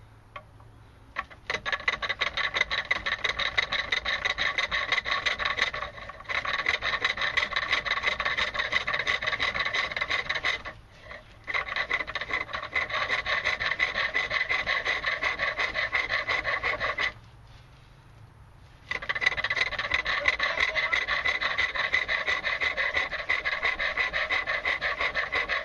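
A hand tool rasps steadily against wood on a workbench, blending a shoulder into a tenon in long, close, rhythmic strokes broken by three short pauses.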